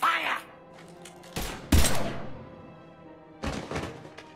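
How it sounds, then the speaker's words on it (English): Gunfire in the video game Mass Effect 3, loud sharp shots and heavy thuds in separate bursts with ringing tails, with fainter game sounds between the blasts. "Now open fire!"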